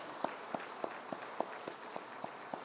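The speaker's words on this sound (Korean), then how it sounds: "우리 박수로 두 분을 환영하겠습니다" Sparse, evenly spaced claps from a small church congregation welcoming two new members, a handful of distinct hand claps roughly every third of a second over a quiet room, fairly faint.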